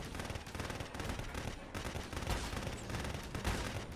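Rapid gunfire from a Ghost Recon Advanced Warfighter 2 firefight, dense and continuous with overlapping bursts throughout, loud and close, with no talk.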